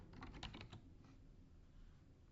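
Quiet keyboard typing, a quick run of key clicks early on that trails off into soft background hiss.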